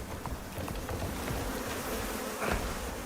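Bees buzz continuously in Icarus, a close droning hum with a slight swell near the end and faint patter underneath.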